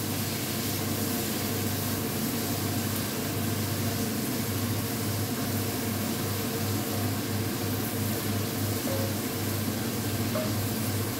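Lardons sizzle in a hot pan, blanching in their fat with a loud, even, continuous hiss that holds steady throughout, with no talking.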